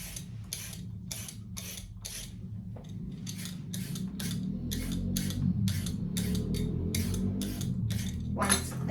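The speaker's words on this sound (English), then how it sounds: "Then I will peel the carrot." A carrot is peeled in a home kitchen with a rapid, regular series of short scraping strokes, around sixteen in nine seconds, over a steady low background hum.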